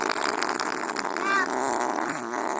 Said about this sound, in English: Oh, that was the juiciest fart ever.